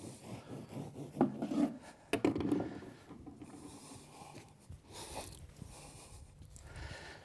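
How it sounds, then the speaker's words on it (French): A simple knife slicing through Rockwool Rockcomble Evolution mineral wool insulation, close rough rasping and rubbing strokes in short bursts, then softer scuffing handling noise. "Alors, on utilise un simple couteau, ça suffit amplement."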